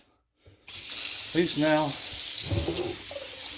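Water runs steadily from a newly replaced kitchen faucet into the sink, a broad constant hiss starting abruptly after a brief silence and continuing close and loud, with someone talking over the flow.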